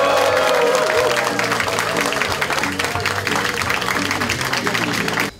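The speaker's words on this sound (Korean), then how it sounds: "큰 박수로 환영해 주십시오." A crowd at a Democratic Party policy meeting in Gwangju applauding as party leader Choo Mi-ae enters, loud continuous clapping mixed with background music and crowd noise.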